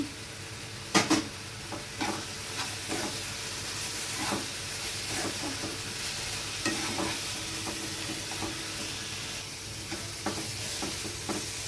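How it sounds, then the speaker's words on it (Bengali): Banana flower and boiled chickpeas stirred in hot oil in a pan, a steady sizzle with repeated scraping strokes of the spoon, one sharper clatter near the start, close and fairly quiet with no talking. "খুব ভালোভাবে মোচাটা তেলের সাথে নেড়ে নেব, যাতে জল ভাবটা মরে যায় আর মোচাটাও সেদ্ধ হয়ে যায়।"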